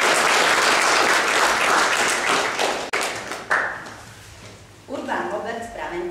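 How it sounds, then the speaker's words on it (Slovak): Audience applause at a Slovak winter folk festival honoring a woodcraft toymaker, a loud sustained burst of clapping that fades out after about three seconds, followed by a host speaking into a microphone. "Tak poprosím aj potlesk pre pána."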